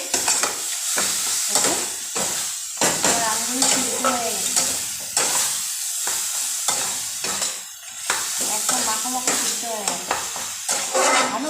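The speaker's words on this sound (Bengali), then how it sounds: "এভাবে নাড়তে থাকবে" Ripe mango chutney with spices being stirred in a pan, a steady scraping stir over continuous sizzling, with a few brief bursts of talk in between.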